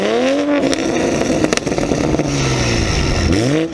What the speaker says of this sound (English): let me keep quiet for a bit so you guys can enjoy this glorious B58 sound